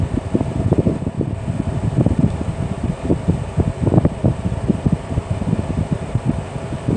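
Portable air conditioner blowing air: a steady, close whoosh of airflow with a low fluttering rumble, continuous and unbroken, with no voices.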